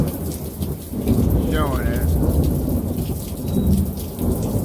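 Heavy thunderstorm with rain pouring steadily over a surface and low thunder rumbling throughout, loud and continuous, with hail mentioned in the storm and a brief voice speaking over it.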